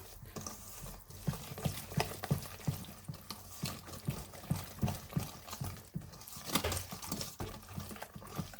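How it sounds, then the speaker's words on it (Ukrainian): Cupcake batter is stirred very quickly in a bowl, producing a fast, even patter of wet slapping strokes that repeats steadily throughout, close and moderately loud. "І добре це все перемішуємо. Дуже-дуже швиденько."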